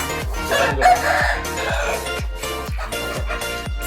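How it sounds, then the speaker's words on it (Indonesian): Bangkok chicken rooster crowing repeatedly, loud and close, with a steady rhythm of calls and clucks over several seconds. "Ayam bangkok."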